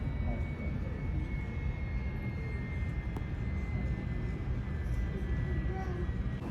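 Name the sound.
airplane pulling in at airport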